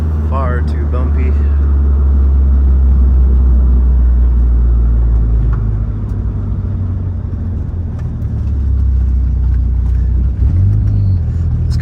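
A lowered 2G DSM on coilovers with a front lip rumbles steadily along a bumpy street, its engine drone loud and constant from inside the car, with jolts and thumps from the rough road.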